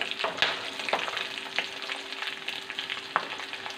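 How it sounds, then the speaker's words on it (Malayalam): Green chilies fry in hot oil for a homemade Kerala rasam, a soft continuous sizzle with small pops and occasional stirring clicks, heard close up and fairly quiet with no talking. "ഞാൻ ഇനി ഒന്ന് അതോട് പച്ചമുളക് ഇടുവാണേ"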